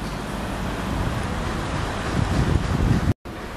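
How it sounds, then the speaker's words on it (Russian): Paris street traffic with many cars passing, a continuous broad roar of road noise and wind that swells slightly toward the end before a brief cut, with no talking. "Очень много машин, красивых машин."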